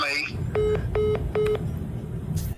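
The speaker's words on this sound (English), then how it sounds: "As you can hear, he hung up pretty quick" After a caller hangs up, three short, evenly spaced electronic phone tones beep over a faint background hum, preceded by a brief voice fragment.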